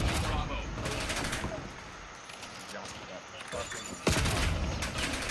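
Gunfire in the first-person shooter Black Ops 7, dense bursts of automatic shots rattling almost continuously, loud and close, with a sharp crack near the end and a player talking over it.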